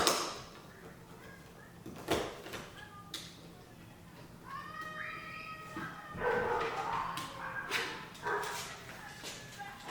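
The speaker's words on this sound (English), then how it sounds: "I hear my attack dogs in the back going off" Dogs bark in bursts from somewhere away from the microphone, with some whimpering and a clunk of a door or drawer in between.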